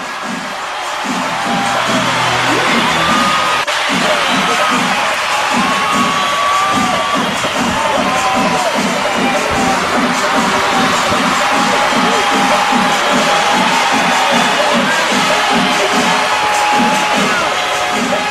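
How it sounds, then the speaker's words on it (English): A huge festival crowd at Thrissur Pooram in Kerala, a loud, dense, continuous roar of cheering and shouting voices, with a rapid rhythmic drum beat pulsing steadily underneath throughout. "The huge crowd raced to the front to see the Kudamatam up close."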